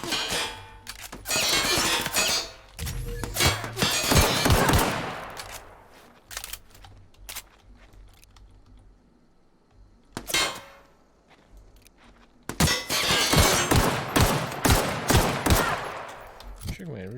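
Pistol gunfire in The Outer Worlds on Supernova difficulty, loud sharp shots in rapid clusters at the start and end with a few isolated bangs in between, and a voice briefly in the mix.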